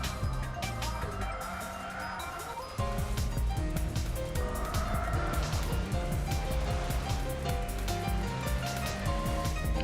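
Gran Turismo 4 race at Suzuka East, with a continuous racing-car engine drone that rises and falls in pitch through gear shifts, steady and fairly loud, with no voices.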